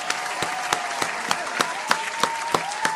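A round of applause breaks out, sounding as sparse, evenly spaced claps rather than a dense crowd, with a steady tonal hum running underneath.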